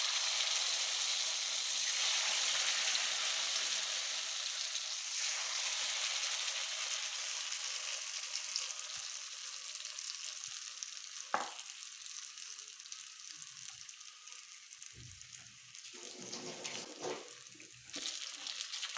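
Ripe jackfruit fritters, chakka pori, fry in hot oil with a steady, bright sizzle that hisses on for the whole stretch, broken by a few soft clinks and a low bump.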